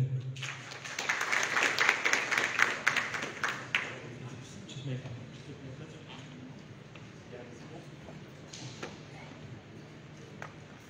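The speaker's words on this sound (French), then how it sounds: "Un tonnerre d'applaudissements, s'il vous plaît." Audience applause at the Palais du Peuple during the launch of a digital economy fair, loud dense clapping for about four seconds that fades into a quieter murmuring room, with speech mixed in.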